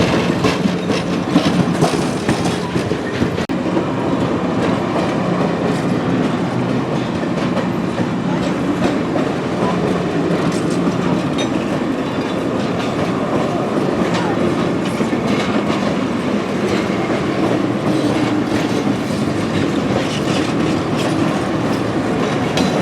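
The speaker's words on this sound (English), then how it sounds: "As the train rolls through Peninsula, the first leg of their journey is almost 3/4 of the way done." Nickel Plate Road 765 steam train rolls past through Peninsula, a loud continuous rumble of rail cars with rhythmic clickety-clack of wheels over the track throughout.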